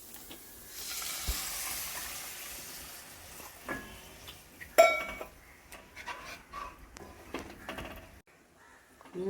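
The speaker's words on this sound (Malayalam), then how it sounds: "അപ്പോൾ 2 ഗ്ലാസ് വെള്ളം ഒഴിക്കുന്നുണ്ട്" Water poured into a pan of sautéed spices for a semolina snack hits the hot oil with a loud, rushing sizzle that fades into gentler bubbling and a few utensil clinks.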